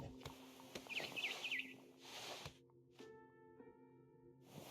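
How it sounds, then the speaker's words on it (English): Several short bird chirps from a barn swallow in a video game, heard in a brief cluster near the start over a quiet ambient background, with a soft steady hum behind. "Then I heard chirping outside my window. It was a barn swallow going back to her nest."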